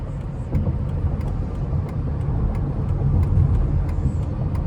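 A Chrysler 300 SRT8 engine rumbles nearby in rush hour traffic and builds gradually as the car accelerates, with a steady low roar throughout and no voices.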